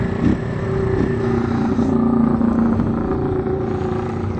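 A Keeway Cafe Racer 152 motorcycle engine runs steadily at idle nearby, a continuous low rumble with slight throttle variation and no talk.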